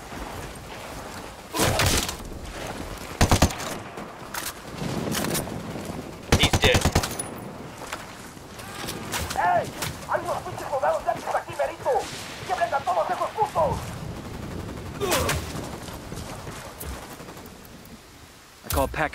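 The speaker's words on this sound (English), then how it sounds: "Opening fire." Rapid bursts of automatic gunfire and single shots ring out during a cartel attack in the video game Ghost Recon, loud and repeated, with voices talking over the shooting at times.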